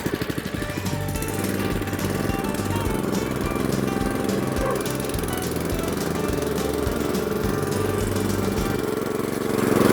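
A walk-behind tractor engine runs in a field, a loud, steady, rattling mid-pitched chug close by that carries through the whole stretch without pause, swelling slightly at the end.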